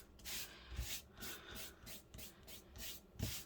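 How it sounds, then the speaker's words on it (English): A paper napkin rubbed down by hand for decoupage, producing soft, rhythmic swishing strokes repeated about ten times, close and fairly quiet with no talking. "I'm not rubbing too hard."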